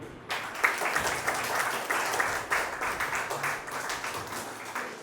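An audience at an International Day of the World's Indigenous People event in Nagpur bursts into sustained, dense applause that stays loud and even throughout.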